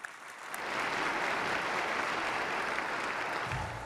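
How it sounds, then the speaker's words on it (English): Audience applause for a pipe band led by a retired San Jose police sergeant at a mayoral inauguration, a steady dense wash of clapping that swells in quickly and holds at an even level throughout. "Give me a clap for them."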